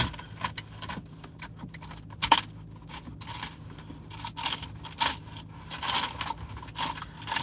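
Loose coins jangle and clink inside a car, a steady run of metallic rattles and small scrapes up close, with a faint low vehicle hum underneath.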